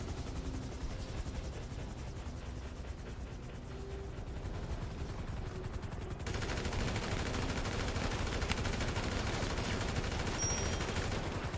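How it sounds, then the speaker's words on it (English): Rapid bursts of automatic gunfire crackle almost nonstop during a vault heist in GTA roleplay, a dense loud barrage that grows harsher and fuller partway through, with a low droning rumble underneath. "Where are they shooting from?"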